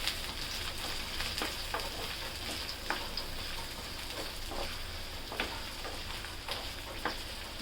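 Mushrooms frying in oil for chilli mushroom, a dense continuous sizzle with light crackles and pops throughout, close and steady, with no voices.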